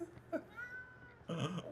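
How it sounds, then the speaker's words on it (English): A cat meows, a drawn-out mid-pitched cry followed by a louder, rougher burst near the end, close by against a quiet room background. "OG Rusty, why you meowing? I hear the meow."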